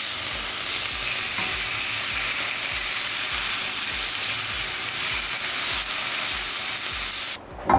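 Chicken frying in a hot pan, with a loud, steady sizzle throughout and a regular series of stirring scrapes and clatters beneath it. No one speaks, and the sizzle dips briefly just before the end.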